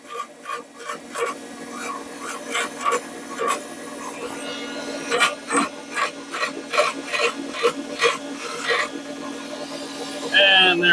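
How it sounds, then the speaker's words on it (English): A bolt is turned to press a keyed sprocket onto a shaft, producing a close run of repeated rasping, grinding strokes in an uneven rhythm, ending with a brief brighter scrape. "I'm actually going to use this bolt to help press this on through"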